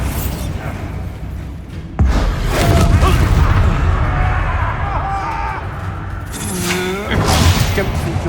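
Spell explosions from a wizard duel in the Hogwarts Legacy video game, a loud boom landing around two seconds in with a dense rumbling wash after it, then whooshing magical effects and a second blast near the end.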